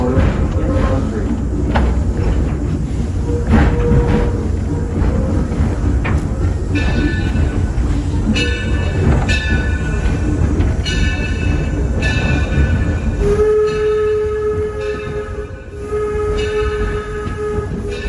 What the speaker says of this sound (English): Torch Lake is one of 3 coal-fired, steam-powered locomotives that operate the trains here on our railroad.